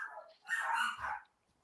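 A dog gives a short bark or two indoors during a casual home chat, brief and moderately close with little else around it.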